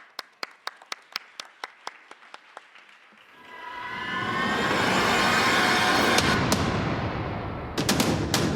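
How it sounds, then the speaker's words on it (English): Audience applause at a startup pitch final in Tokyo, starting as a few sharp, spaced claps and swelling after a few seconds into loud, sustained clapping from a full room. "Let's give her a round of applause."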